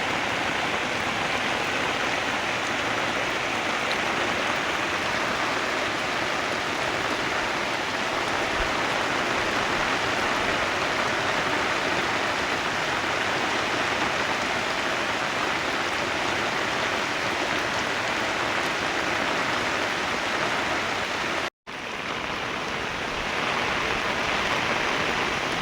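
Heavy rain pours down outdoors, with water flooding everywhere around, as a dense, unbroken roaring hiss that stays loud and even throughout, with no voices heard.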